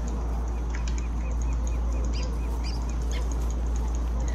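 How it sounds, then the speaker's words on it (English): A turkey gobbler in the Don't Starve video game calls with short repeated bird-like clucks and honks over a constant low game hum, fairly clear and steady throughout. "And there's a little turkey. God, I hate those turkeys."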